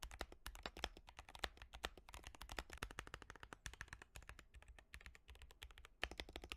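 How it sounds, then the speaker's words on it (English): A tape- and foam-modded mechanical keyboard is typed on steadily, its keystrokes a fast, dense stream of crisp clacks heard up close with brief pauses. "this keyboard has been tape modded and foam modded, and I think it sounds objectively worse"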